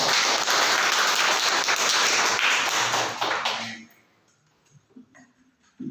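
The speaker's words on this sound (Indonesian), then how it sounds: "tepuk tangan buat kita kalian" Classroom audience applauding, a dense burst of steady clapping that stays loud for several seconds, then fades out into near silence with a few faint sounds.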